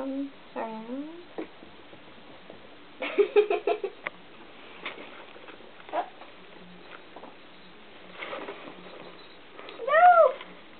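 A cat gives a few short meows at the start and a louder one near the end, with scattered thumps and pattering in between, fairly quiet.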